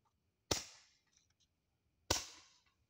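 Two sharp firework bangs go off at night about a second and a half apart, each a hard crack with a fading, echoing tail and a few faint crackles in between.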